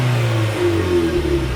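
A car engine revs close by, a loud, sustained mid-pitched drone whose tone climbs slightly as the throttle is held, with no talk over it.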